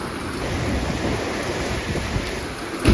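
A storm with heavy rain pouring steadily and a low thunder-like rumble, a dense, loud wash of noise throughout with a louder burst at the very end.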